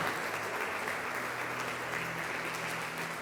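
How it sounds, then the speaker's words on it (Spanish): Congregation applauding during a church service, a dense steady wash of clapping from many hands that holds at an even level throughout, with no voices standing out. "Denle un fuerte aplauso a Jesús."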